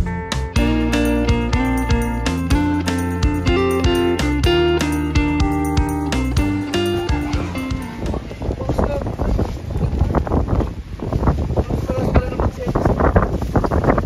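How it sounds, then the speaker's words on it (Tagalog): Music plays at first, then gives way to loud, gusty wind buffeting the microphone with a roaring, rumbling rush. "Malakas hangin mo dyan."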